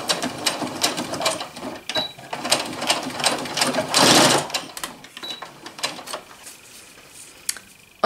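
A sewing machine stitches a fabric cushion cover in short rapid bursts of needle clatter, with brief pauses as the fabric is turned. The sound is close and moderately quiet.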